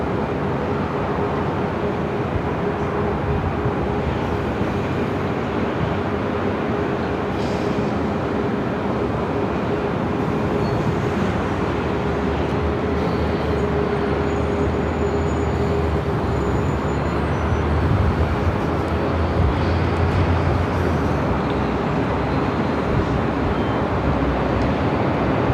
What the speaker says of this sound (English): it should be an immediate takeoff for Korean Air Flight 18 heading back to Seoul